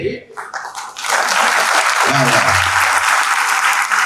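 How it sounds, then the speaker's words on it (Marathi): An audience at a speech breaks into loud, sustained applause, dense clapping that swells in after a brief spoken moment and continues strongly to the end. "एवढ्या टाळ्या वाजवणारा रसिक आज मी इथं पहिल्यांदा बघतो आहे"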